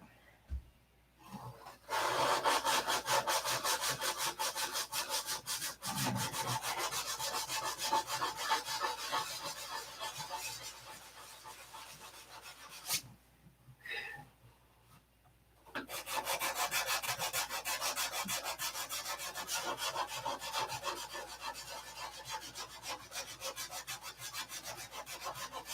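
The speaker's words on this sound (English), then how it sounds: "we're going to sand on a little more" A model is sanded by hand to rub paint off, with steady close scraping strokes that run for long stretches, stop briefly near the middle, then resume, with no voices.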